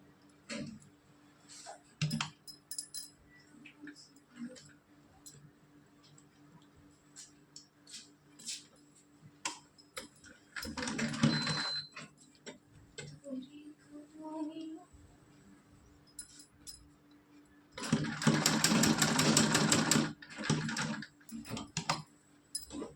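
Sewing machine stitching a small doll's dress, with two short bursts of close mechanical whirring between quiet stretches of handling clicks and someone talking.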